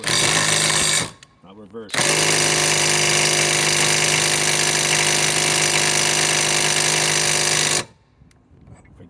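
A Flex FX 1451 mid-torque cordless impact wrench with a 3.5 stacked lithium battery strains against a trailer hitch ball. It starts with a brief burst, then runs loud and steady for about six seconds, with someone speaking briefly between the bursts.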